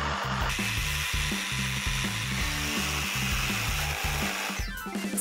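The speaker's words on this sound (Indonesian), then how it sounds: "Waktunya gergaji ukir." A scroll saw buzzes in rapid, choppy pulses as it cuts through wood, steady and close, ending with a brief scrape.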